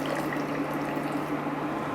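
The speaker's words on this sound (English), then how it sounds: "I'm gonna add some of that water that I was talking about." Water is poured into a pot of lobster and corn chowder, a steady, soft rushing splash under a low electrical hum, continuous and without speech.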